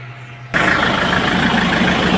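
A car engine bursts into life after a quiet moment and settles straight into a loud, steady idle, the rumble continuous and close, on a car being worked on for a radiator drain and coolant check.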